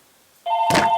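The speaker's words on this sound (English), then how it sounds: "And here we are with the phone again." A telephone ringing in a home, a sudden electronic tone that starts partway through and sounds close and fairly loud, with a louder burst joining it near the end.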